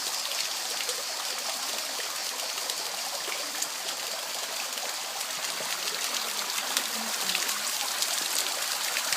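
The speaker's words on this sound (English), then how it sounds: "reporting on the beauty of Pizarra waterfalls in Andros, in the village of Apikia" The Pizarra waterfall stream in Apikia village on Andros flows steadily, a continuous bright rushing and trickling of water close by, even and unbroken throughout.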